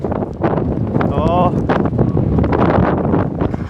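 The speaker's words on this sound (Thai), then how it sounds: "ลมพัดแล้ว" Strong winter storm wind roars continuously across the microphone around a house with a gate, loud and buffeting, as people talk over it.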